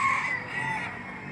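Chickens at a poultry market sound off close by, a rooster's drawn-out crow-like call with clucking over a busy background.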